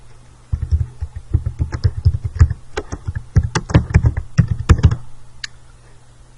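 Fast, uneven clatter of keys on a computer keyboard while entering a word into an Excel sheet, a dense run of close taps that slows near the end and stops, with no talking.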